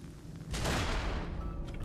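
An enemy's cannon fires in the game Nioh: a single loud broadband blast that bursts in abruptly and rolls off into a fading rumble.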